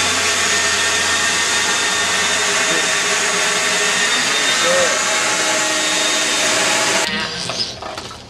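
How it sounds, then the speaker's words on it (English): A car wash vacuum cleaner runs loud and close with a steady motor whine and airy roar, then cuts out abruptly near the end, leaving a few faint knocks. "you can vacuum or get vacuumed"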